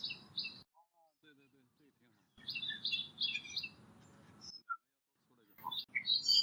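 Parakeets call in short bursts of shrill chirps near a hollow in a strange tree, with brief gaps of quiet between the calls.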